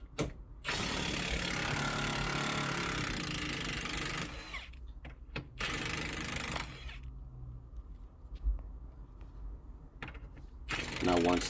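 A ratchet working loose the rear bolt of a Ford Escape lower control arm, close mechanical clicking and grinding in sustained runs broken by short pauses and clanks, no talking.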